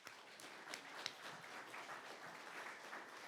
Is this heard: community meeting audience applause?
yes